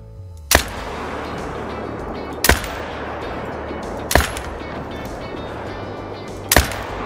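Four loud rifle shots, a few seconds apart, ring out over a steady outdoor ambience while hunting reindeer in the Call of the Wild game, each a sharp crack with a brief echo.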